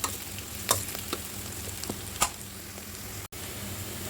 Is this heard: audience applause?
no